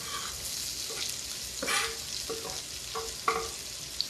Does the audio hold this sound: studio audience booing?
no